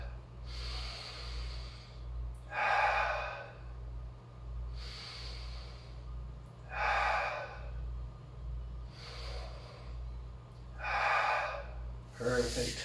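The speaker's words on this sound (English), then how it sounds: "Breathe deep here through your nose" Slow, deep nasal breathing during a yoga stretch, with three long audible inhale-exhale cycles of airy hissing evenly spaced over a low steady hum, close to the microphone.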